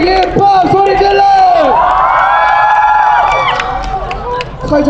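Festival crowd at a university hip-hop performance shouting and cheering together in a loud, sustained, tonal roar of voices rising and falling close up, with amplified sound and speech mixed in.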